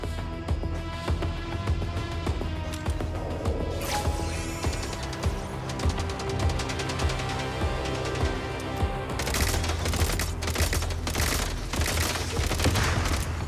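Steady rapid fusillades of gunfire from enemy shooters in a video game rattle on without a break under game music, growing denser and louder in the final seconds, with no voices.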